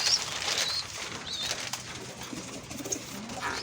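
Pigeons cooing softly over a hissy background with a faint rustle of wings, several low repeated coos at moderate distance, no talking.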